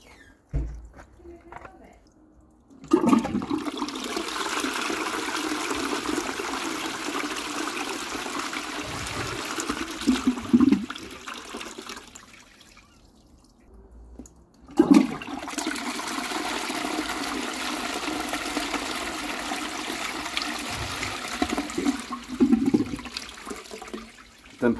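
A Qualitas Sandringham close-coupled toilet from around 2000, with a 7.5/6 litre flush, flushes twice, each a rushing gush of water that tapers into a trickle as the tank refills, close by.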